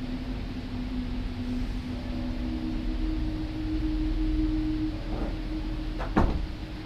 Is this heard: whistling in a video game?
no